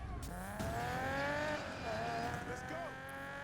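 A car with no modifications drifts in Need for Speed Payback. The engine whines steadily with rising and falling revs, and tire squeal runs continuously and close through the whole stretch.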